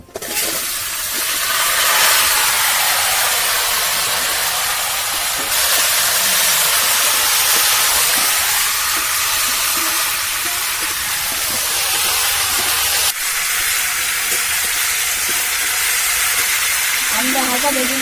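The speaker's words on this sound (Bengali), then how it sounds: "আমরা হালকা ভেজে নিচ্ছি" Green mango pieces frying in hot oil with panch phoron and dried red chili, a loud continuous sizzle and hiss that holds steady, with a brief clatter of stirring near the end.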